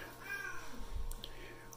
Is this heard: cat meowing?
yes